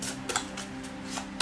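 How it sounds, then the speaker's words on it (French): Tarot cards being shuffled by hand at close range, a run of quick papery riffles and slaps in an uneven rhythm over a low steady hum. "Je sais pas si je devrais laisser le mélange de cartes, parce que c'est un peu long à chaque fois."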